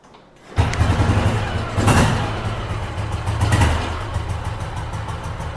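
A 1990s vehicle engine cranks and fires, then settles into a loud, steady idle up close, with no one speaking.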